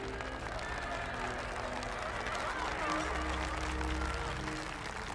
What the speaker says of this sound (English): And we hear more applause.